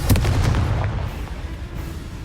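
A fiery Confringo spell blast in Hogwarts Legacy: a loud, booming explosive burst at the start that rumbles and fades over about two seconds.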